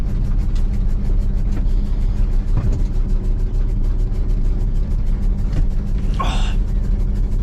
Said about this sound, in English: Good little country cruise in a 69 F600 grain truck, dump truck, whatever you want to call it.